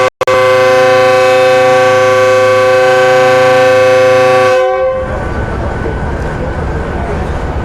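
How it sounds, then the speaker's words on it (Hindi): A departure horn sounds for the Awam Express at Rawalpindi railway station: one long, loud, sustained chord blast lasting several seconds, then it cuts off and leaves a busy station background of rumble and noise. "डिपार्चर हॉर्न हो गया अवाम एक्सप्रेस का रावलपिंडी रेलवे स्टेशन पे"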